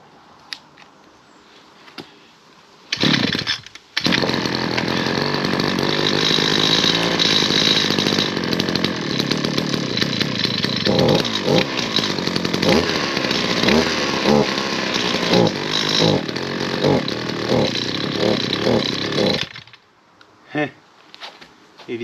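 A 2013 ECHO SRM-350ES brush cutter's small two-stroke engine catches after a couple of pulls, then buzzes loudly and continuously, revving up and down for about fifteen seconds before cutting off abruptly.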